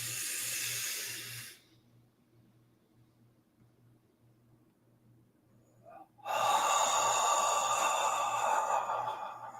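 A slow, deep breath during meditation: a breathy exhale fades into near silence for several seconds, then a long, loud, airy inhale fills the last few seconds close to the microphone.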